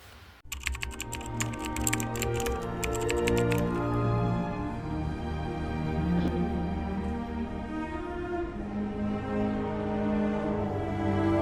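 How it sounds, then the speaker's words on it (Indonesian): Rapid keystrokes clatter over a loud, steady hum as a proclamation manuscript is typed out in a school drama about Indonesian independence. "Tolong Anda ketik naskahnya sekarang."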